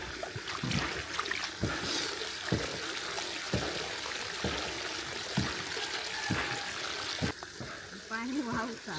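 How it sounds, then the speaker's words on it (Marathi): Water runs and trickles steadily at a low level, with faint voices talking in the background and a few soft knocks along the way. "पाणी वाहता."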